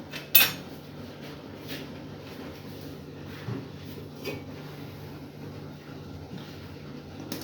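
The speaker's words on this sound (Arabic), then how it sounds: "ناخدو دابا بلاكا ديالنا، بلاكا وسباشيل باش غنكريسيو" A metal baking tray for a génoise sponge, already lined with baking paper, clatters once sharply near the start, followed by faint intermittent scrapes and knocks against a steady low hum.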